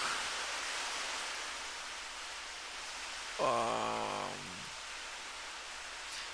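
Heavy rain pours steadily as a broad, even hiss, with a short voiced murmur briefly rising over it partway through.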